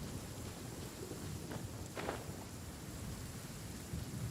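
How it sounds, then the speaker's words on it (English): Heavy rain pours steadily in a video game, a constant hiss under low rumbling, with a couple of brief brighter crackles midway that suggest thunder. "This heavy rain must be quite an inconvenience for you."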